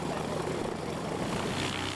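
Propeller engine of a skydiving airplane at takeoff, a loud continuous droning roar that fills the short stretch without letting up, with no speech over it.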